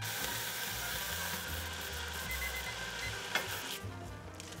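Reverse-seared steak searing in a hot pan, a loud continuous sizzle with steady crackling that stays close and even throughout, with one brief knock near the end and no talking.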